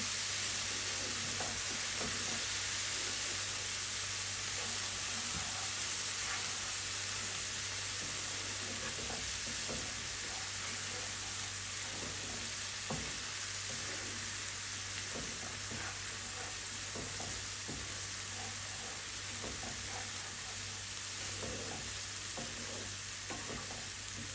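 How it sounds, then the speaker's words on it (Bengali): Spices sautéing in a pan for a Bengali lai shak and boal fish dish, with steady sizzling and frying plus intermittent stirring scrapes, close and continuous throughout with a constant low background hum. "দুই তিন মিনিট মশলাগুলো একটু কষাই নিলাম"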